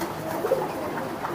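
Soft cooing of racing pigeons, including a red checker cock, heard close in a short burst with low murmuring in the background.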